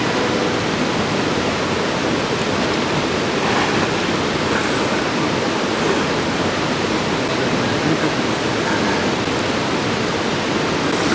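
Velo de Novia waterfall pours into a river in a constant, loud, broadband roar of rushing water that stays steady throughout, with no pauses.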